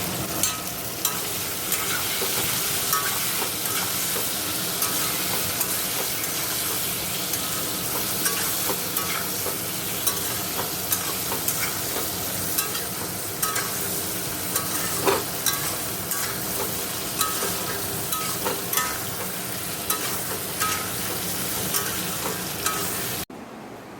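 Bottle gourd and green chili frying in a kadai with whole-spice tempering, a steady loud sizzle with scraping stir strokes running unbroken for the whole stretch, then stopping abruptly at the very end.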